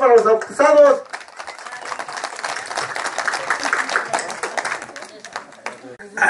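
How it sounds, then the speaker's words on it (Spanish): At a baptism party, a brief burst of singing gives way to a crowd clapping and applauding, a steady patter of hands near and moderately loud, with voices mixed in. "ese aplauso para los abusados"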